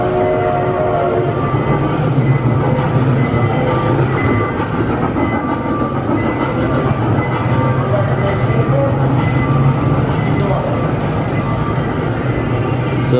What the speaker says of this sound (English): So that's the train around Gurnee Mall